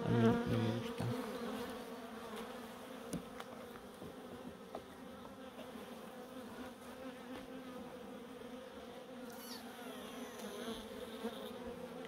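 Honey bees buzzing steadily around beehives during a late-season honey harvest, a dense continuous drone that stays level and fairly close for the whole stretch, with no talking.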